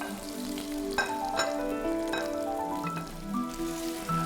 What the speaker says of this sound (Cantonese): 沙煲淋油燒熱，經過飛水五花肉入煲翻炒